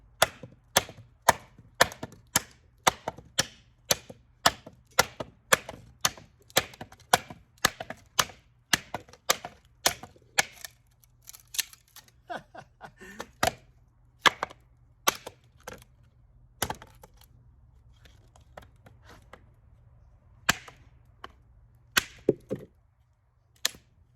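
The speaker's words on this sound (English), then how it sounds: "Man, this thing chops so good" Shade Indonesia Dark Horse 2 knife chopping through a wooden board, a rapid run of sharp, close woody chops at first, then slower, more scattered strikes, with no talking.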